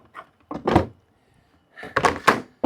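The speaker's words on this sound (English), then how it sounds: "put a lid on" A plastic lid is fitted onto a goat and chicken feed container with a few short knocks and clunks, two separated clusters of handling noise up close.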